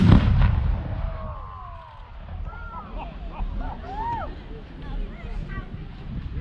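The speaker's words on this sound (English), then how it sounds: "This is the largest explosions I've ever done." Heavy distant tank gun booms and explosions roll out over wind noise, with scattered whistling trails and crackles between the blasts.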